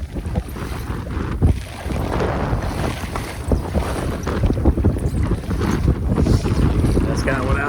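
Wind sweeps across a lake onto a small fishing boat, a loud, steady rumbling buffet against the microphone with slapping waves and gusty surges throughout.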